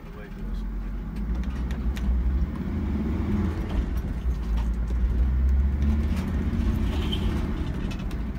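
A 2002 Mercedes-Benz 316 CDI Sprinter Auto-Trail Scout motorhome with automatic gearbox and diesel engine pulls away, its low engine rumble steady and close with a slight rise midway, with someone talking over it.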